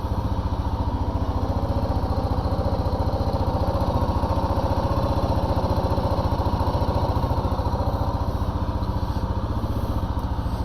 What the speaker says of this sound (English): Got the neighbor over there in a noisy tractor.